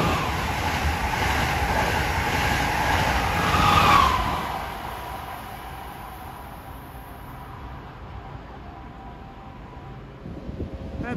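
An Amtrak Acela high-speed train rushes past with a broad roar that builds to a peak, then fades into distant rumble.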